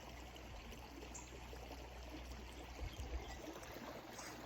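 Fast-moving stream water after a storm, a dense, steady rushing wash that stays even throughout, fairly close and alone without voices.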